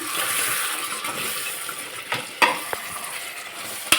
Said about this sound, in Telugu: ఉడుకుతూ ఉంది మసాలా కొంచెం బాగా వేగాలి పచ్చి వాసన పోయేదాకా